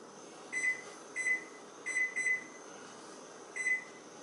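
A kitchen timer being set beside a home-made powder coating booth gives several short, high, electronic beeps: a few in quick succession, then one more after a pause, over a faint steady hum.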